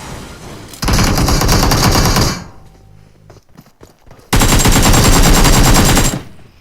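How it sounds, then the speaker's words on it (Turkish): Long bursts of rapid automatic gunfire in PUBG Mobile, loud and continuous, broken by a quieter stretch of scattered clicks and thuds. "Buradan normal adam silah sesi geldi yani."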